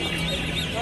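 White goose chicks honk and squawk briefly at a busy bird market, with faint voices and crowd noise around them.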